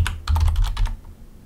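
Rapid typing on a computer keyboard, a quick burst of about ten clacking keystrokes close to the microphone, alone with no voices, ending in a soft tap.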